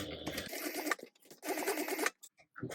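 A sewing machine top stitches along the bottom of a tote bag in two running bursts separated by short pauses, with light handling noises in between.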